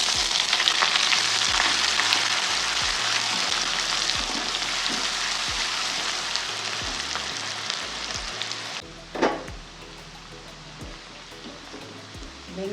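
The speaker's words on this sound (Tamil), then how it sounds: "வெங்காயம் கொஞ்சம் கோல்டன் ப்ரௌன் ஆயிடுச்சு" Onion fries in oil with dried red chilies and curry leaves, giving a loud, dense, steady sizzle that softens after a stir, along with a brief clink of utensil against the pan near the end.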